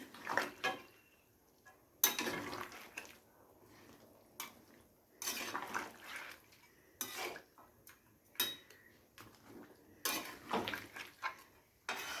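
Fish head curry being stirred in a pot, a spoon scraping and clanking against the metal in irregular bursts separated by quiet gaps, close and fairly soft with no talking.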